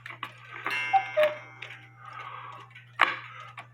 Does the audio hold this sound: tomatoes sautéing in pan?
no